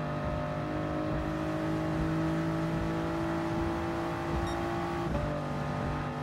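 Race cars in Gran Turismo Sport on the new Tokyo circuit drone past with steady, close engine whine that holds level, then shifts pitch abruptly as cars go by near the end; no talking.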